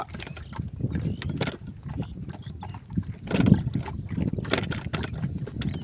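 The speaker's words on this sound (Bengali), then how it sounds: "কাকা নৌকা এই নৌকা বাইতেছে কাকা" A wooden boat is rowed on a beel, with rhythmic splashing and knocking of oars through water, repeated strokes with wind noise over an open outdoor background.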